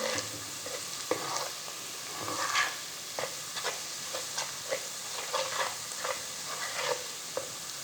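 Ground red chilli and turmeric powder sizzle in hot oil for chicken karahi, a steady close frying hiss with irregular scraping clicks of a stirring spoon, no voices.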